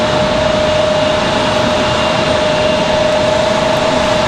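A Republic Airways airliner at RDU Raleigh-Durham International Airport gives a loud, steady jet roar with a faint whining tone running throughout, unbroken and without talk.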